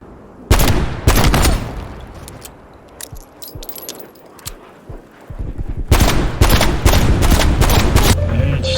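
Booming gunfire from a Magnum revolver in the shooter Black Ops Cold War, loud close shots in separated bursts with sharp metallic clinks between, then a faster cluster of blasts near the end.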